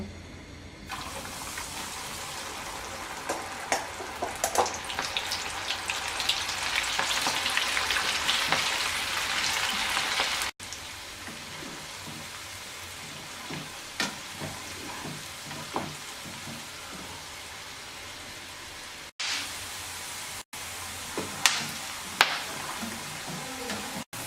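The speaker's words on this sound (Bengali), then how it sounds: "এবার আমরা সবগুলো কর্ন একসাথে দিয়ে মিডিয়াম হাই হিটে ভেজে নেব" Sweet corn kernels deep-frying in plenty of hot oil over medium-high heat, a dense crackling, bubbling sizzle that later settles into softer, sparser popping with occasional sharp spits.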